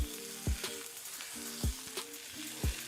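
Fat from a New York strip steak sizzles and renders in a pan, a soft steady crackling hiss punctuated by three low thumping knocks at regular intervals, close and without speech.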